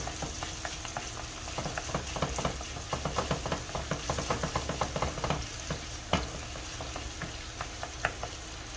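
Filipino picadillo fries in a pan with a steady crackling sizzle, punctuated by scattered sharper pops and the clink and scrape of stirring, close and fairly loud throughout.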